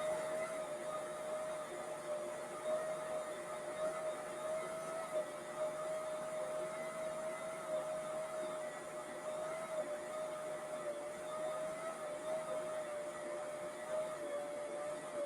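A stand mixer kneading pretzel dough in its bowl gives a steady, even motor whine with a faint hum, running continuously and alone at moderate level.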